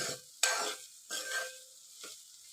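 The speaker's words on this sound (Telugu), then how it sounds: "ఇట్లా మాడకుండా కలుపుకుంటూ ఫ్రై అయితే చేసుకుందాం." Bitter gourd coated in spices is fried and stirred in a pan. Three short scraping bursts of stirring rise over a faint sizzle, each fading quickly into near quiet.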